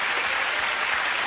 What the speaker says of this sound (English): I'm counting that round of applause as for me.